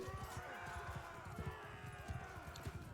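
Horse hooves clip-clop in Mount & Blade Bannerlord II, a rapid, irregular run of thuds mixed with battle noise under faint talk.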